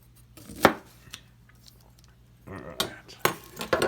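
A knife slicing cabbage thin for sauerkraut on a cutting board, with a single crisp cut followed by a burst of quick, irregular close-up chops.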